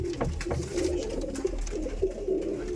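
Pigeons kept for sale, tournament racing birds, coo in low repeated throaty calls close by, several birds overlapping in a steady murmur.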